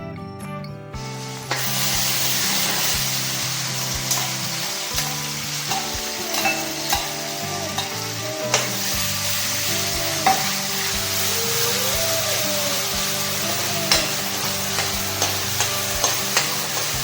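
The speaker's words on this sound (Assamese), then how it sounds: "ভালদৰে এই পেষ্টখিনি ভাজিব লাগিব।" Ginger-garlic paste sizzles loudly in hot oil as it is stirred, a dense continuous hiss broken by regular scraping strokes of the spoon against the pan.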